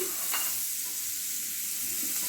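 Steady, loud sizzling of capsicum added to a hot frying pan with carrot, with faint stirring scrapes beneath the constant frying hiss.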